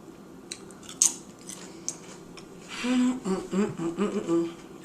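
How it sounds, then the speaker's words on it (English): Close-up crunching of a sunflower onion ring cracker: a few sharp isolated bites, then a run of loud, wet, rhythmic chewing crunches near the mouth, with no talk. "You can hear me chewing throughout. Every single bite is a crunch."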